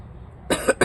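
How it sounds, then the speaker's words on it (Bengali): A person coughs in short bursts partway through, two or three close, fairly loud coughs breaking a quiet background during plant grafting work. "কাশি হচ্ছে,"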